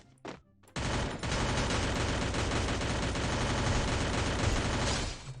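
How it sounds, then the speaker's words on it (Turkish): Rapid gunfire with ricocheting bullets in the Free Fire MAX video game: a brief burst, a short pause, then a dense, loud, continuous volley of shots lasting several seconds before cutting off. "oğlum çok mermi sekti ya"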